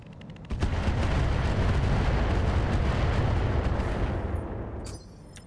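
Weapons fire in the RogueTech BattleTech game: a dense, loud roar of rapid cannon and gunfire sustained for about four seconds, then cutting off abruptly.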